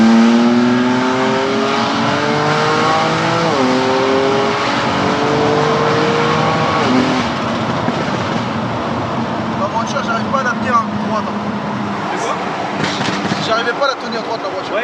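A tuned 570-horsepower stage 2+ car engine roars and revs upward through its gears from a launch, pulling hard and loud, with the pitch climbing repeatedly before settling into a steady drone.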